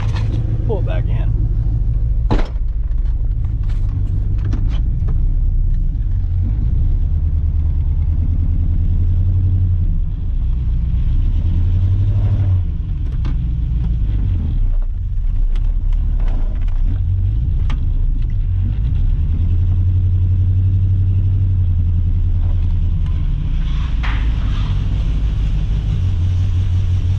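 An LS-swapped Chevy S10 idles with a deep, steady low rumble and an uneven vibration, loud and close, with brief clanks and someone talking over it at times.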